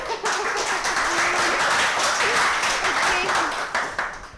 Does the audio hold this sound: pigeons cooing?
no